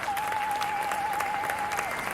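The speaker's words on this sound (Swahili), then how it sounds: "Pigeni hawa makofi jameni." Applause from a crowd at a presidential clinker plant commissioning event, a steady dense wash of clapping over about two seconds, with a sustained whistle-like tone running through it.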